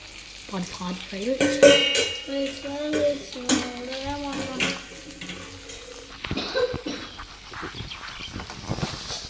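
Potatoes frying in a pan while being stirred, with a close sizzle under clinks and scrapes of a utensil against the pan. Voices are heard briefly near the start.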